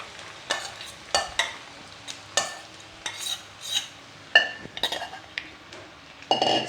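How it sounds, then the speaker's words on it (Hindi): A sabudana khichdi mixture with peanuts being stirred in a non-stick pan: repeated scraping strokes of a spoon against the pan with soft sizzling between them and a few metallic clinks. "अब हम इसमें साबूदाना मूंगफली के दाने का मिश्रण डालेंगे और इसे अच्छे से मिक्स कर लेंगे।"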